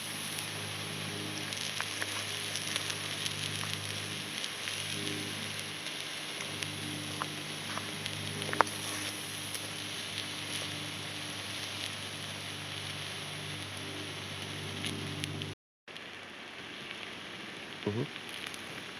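Meat sizzles on a hot stone set by a campfire, giving a steady close hiss and crackle that runs unbroken, briefly cut by a short gap near the end.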